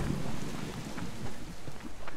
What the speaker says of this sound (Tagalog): Patigil-tigil yung ulan